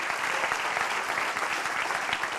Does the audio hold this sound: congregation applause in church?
yes